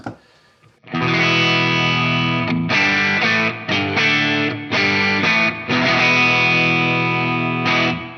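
An electric guitar through a Line 6 HX overdrive effect at default settings plays chords in short bursts with a few brief gaps, loud, gritty and sustained, with no talking.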